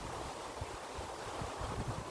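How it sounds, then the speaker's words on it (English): Strong wind roars steadily outdoors at a forging camp, a dense, rumbling rush buffeting the microphone with low gusty thumps throughout, no voices. "The wind's picking up pretty fierce"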